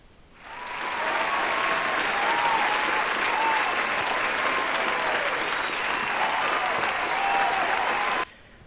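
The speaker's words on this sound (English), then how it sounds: "let's give another round of applause to Matsky, your new owner of F1RC." An audience applauds at the F1RC season 9 prize giving ceremony, a sustained, dense round of clapping that swells in quickly, holds steady for about eight seconds, then cuts off abruptly.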